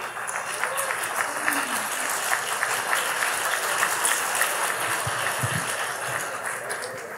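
Sustained crowd applause fills the room during a Honduran presidential debate, steady and fairly loud, with a few low thumps near the end.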